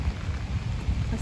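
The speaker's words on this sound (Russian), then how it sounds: "вот такой мелкий дождь будет продолжаться" Light rain falls outdoors in a steady, soft patter with a low rumble underneath, fairly quiet and without speech.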